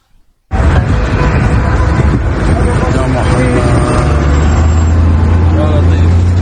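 Dense road traffic of cars, trucks and buses on a road out of Homs toward Tartus, with a loud, continuous rumble of engines and noise after a short quiet start.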